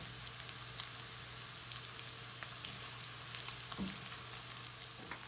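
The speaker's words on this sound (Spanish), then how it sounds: "Voy a esperar que se dore un poquito la cebolla." Chopped onion frying in a pan while browning for nopales with steak, a steady soft sizzle with faint crackles and pops, heard alone without talk.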